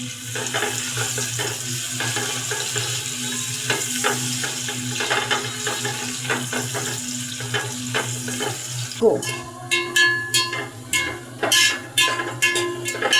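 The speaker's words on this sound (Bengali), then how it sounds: "আলুটা আমার ভাজা হয়ে গিয়েছে যে হালকা লাল বর্ণ হয়ে গিয়েছে" Salted potato pieces fry in a pan for a vegetable khichuri, with continuous sizzling and crackle, then sharper stirring scrapes and clinks toward the end.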